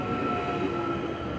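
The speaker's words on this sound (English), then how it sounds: "excuse me while a train comes by" A train rolls past close by, a dense steady rumble with a sustained metallic whine and hum layered over it throughout, loud and uninterrupted.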